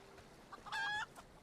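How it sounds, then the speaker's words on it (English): A green chicken in the online role-playing game Final Fantasy XIV lets out one short, loud clucking squawk, clear and close against a quiet background. "That's green chicken. Never seen one of those before."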